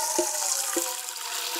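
Water poured into a cooking pot for boiling cassava, a steady rushing stream heard up close, with faint knocks underneath.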